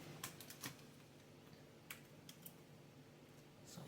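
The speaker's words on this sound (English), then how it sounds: "Turn it this way now and cut it straight down." A knife chops down through cashew and flaxseed brittle in a few sharp, crisp cracks, spaced irregularly and fairly faint, against a quiet room hum with no talking.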